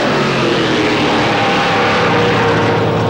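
A drag racing funny car engine at a 1995 shootout at Avon Park winds up its RPM, a loud, dense, continuous roar that holds steady without a break.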